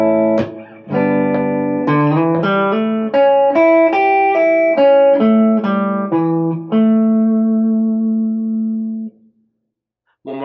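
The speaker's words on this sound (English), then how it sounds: "And that was how you play my mixolydian lick." Guitar slowly playing a mixolydian lick: a clear sequence of plucked single notes and ringing tones that sustain and fade into silence, played alone at close range.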